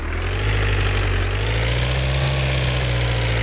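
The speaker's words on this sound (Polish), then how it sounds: "Jak słyszycie, jest to wolno ssący diesel" A naturally aspirated diesel engine of a Panier 250 hatchback in the video game My Summer Car idles close by with a deep, steady rumble, rising slightly in pitch partway through before settling.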